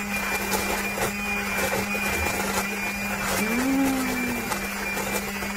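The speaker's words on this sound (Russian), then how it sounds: "Вот, и сейчас будем блендером." A kitchen blender purees pumpkin-lentil soup with onion, garlic and paprika, giving a steady whirring motor hum with a slight rise in pitch partway through, moderately loud and close.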